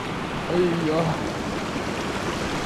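Stream water rushing at a river crossing on a mountain hike near Kutelka, Sliven, Bulgaria, a steady broadband wash throughout, with a brief faint voice partway through.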